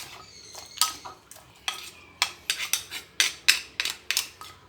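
Spicy mixed fruit salad is tossed with its dressing in a bowl, making a string of sharp, close taps and scrapes of a utensil in short bursts. The bursts come quicker toward the end over a quiet background.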